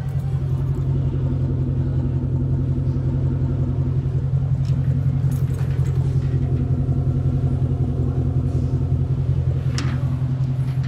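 A 2002 Mercedes-Benz SL500 with its V8 engine idling, a smooth, steady low rumble heard close up and fairly quiet, even and unrevved throughout with no voices over it.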